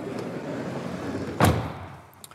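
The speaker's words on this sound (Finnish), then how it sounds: "Laitetaan ovi kiinni." A camper van door, on a Challenger V217 Road Edition Premium, swings shut with a single solid thud midway through, after a steady low background hum.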